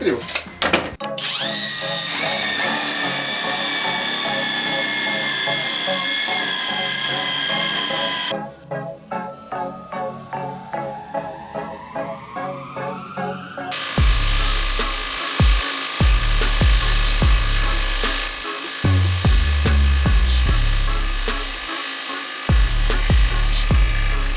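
A large 310 mm Revolt impact wrench runs loud and close, first with a steady high whine, then in rapid hammering bursts that grow louder and more continuous toward the end.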